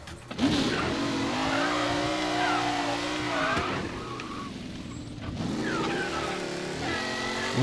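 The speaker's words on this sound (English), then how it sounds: "And hop in your car." A car in a video game drives and accelerates with a steady revving engine, rising and falling in pitch through corners with a brief tire squeal, continuous and fairly close.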